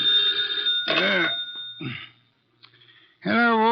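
An old-time telephone bell rings in a dark-house scene from a Nero Wolfe radio mystery, two loud ringing bursts with a gap between them and a short quiet stretch before another ring begins.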